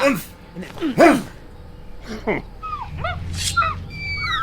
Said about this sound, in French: Un chien préhistorique ou un truc du genre?